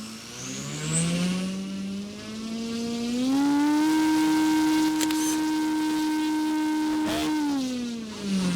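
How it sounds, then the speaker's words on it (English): An electric motor, an AM670 on an ExtremeFlight 67-inch Laser Exp RC plane running on about 25 volts, whines up to full throttle, holds a loud steady tone, then winds down near the end with no talk. "Dave's going to run the throttle up"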